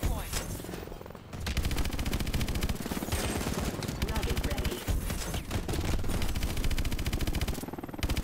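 Sustained rapid machine-gun fire in Call of Duty: Advanced Warfare, a dense, loud stream of shots running nearly continuously from start to finish amid game sounds.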